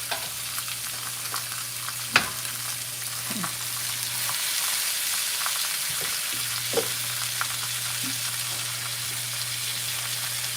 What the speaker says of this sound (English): Just searing some meat.